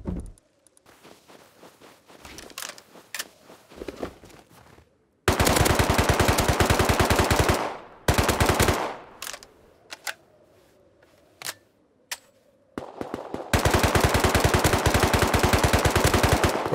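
Video game gunfire: long, loud bursts of rapid automatic shots alternate with scattered single clicks and brief pauses, close and dominant throughout.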